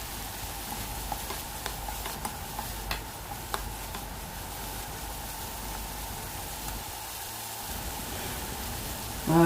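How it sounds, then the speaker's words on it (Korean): Bracken is stir-fried in perilla oil over high heat, giving a steady soft sizzle with faint scattered ticks and scrapes that carry on throughout. "들기름 2큰술 넣고 달달 볶아줍니다. 강불로 볶아줍니다."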